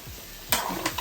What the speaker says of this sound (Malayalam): എന്നിട്ട് ഇത് നല്ലപോലെ അങ്ങനെ മിക്സ് ചെയ്ത് കൊടുക്കുക